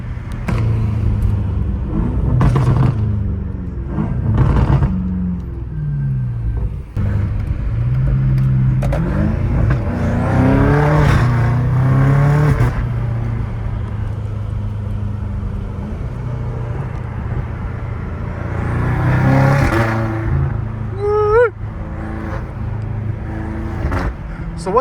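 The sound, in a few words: straight-piped BMW M5 Competition V8 engine revving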